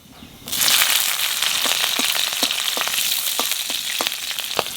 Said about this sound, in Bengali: তেলের উপর দিয়ে দেবো কটা কালো জিরে, আর দেবো কটা কাঁচা লঙ্কা।